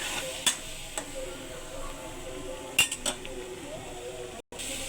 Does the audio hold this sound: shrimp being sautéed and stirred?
yes